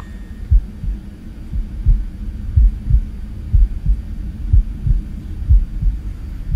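A heartbeat plays in the horror video game Paranormal Activity: The Lost Soul, a steady, deep, muffled double thump repeating about twice per second, loud and alone over a low droning hum.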